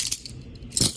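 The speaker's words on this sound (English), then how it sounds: "So here are the cuffs." Toy handcuffs handled in the hand, giving a couple of short metallic clinks and jingles, one early and a louder cluster near the end, close and alone without talk.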